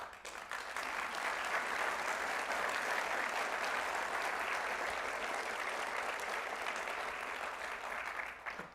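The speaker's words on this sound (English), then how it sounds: "If you were clapping for that, we expect to see you signing up." Sustained audience applause fills a hall at the 2022 State of San Diego County Address, a steady dense wash of clapping that holds at even loudness throughout and fades slightly at the end.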